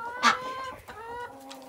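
A hen clucks in a short burst near the start, followed by softer, drawn-out clucking from the same bird close by.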